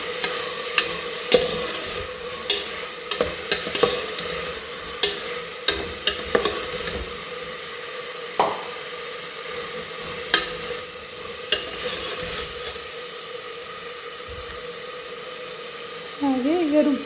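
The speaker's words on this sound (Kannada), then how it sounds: "ಹಾಗೆ ಈಗ ಎಲ್ಲ ತರಕಾರಿನ ಹೆಚ್ಚಿಟ್ಕೊಂಡಿರೋಂಥ ತರಕಾರಿ ಅಷ್ಟೂ ಹಾಕ್ತಾಯಿದ್ದೀನಿ." Chopped vegetables go into a hot frying pan for a South Indian veg pulao and are stirred, giving a steady sizzle with repeated scraping clatters of a spoon against the pan.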